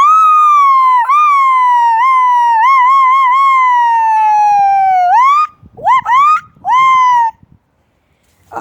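A person vocally imitates a mix of police sirens, a long sustained wailing tone with rising and falling sweeps, followed by a few short choppy siren bursts, loud and close.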